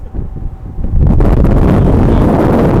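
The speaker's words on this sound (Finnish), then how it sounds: "Tuulee!" Strong wind blows outdoors and batters the microphone, first in uneven gusts, then as a loud, continuous roaring rush.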